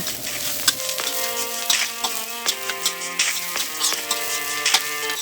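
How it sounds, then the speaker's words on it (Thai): Small diced carrots stir-fry in a pan for egg fried rice, with a steady close sizzle and repeated scraping stirs beneath light background music. "เราผัดแค่ให้แครอทสุกนะคะ"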